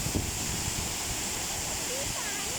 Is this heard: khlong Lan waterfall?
yes